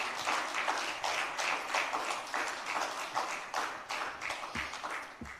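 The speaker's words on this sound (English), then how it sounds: "So I would like us to give one unreserved applause to His Excellency Bashirun MKO Abiola, GCFR." An audience at a fireside chat on democracy applauds, rhythmic clapping swelling in waves and thinning toward the end, moderately distant.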